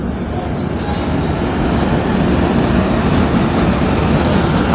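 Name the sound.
Humsafar Express train leaving Raigarh station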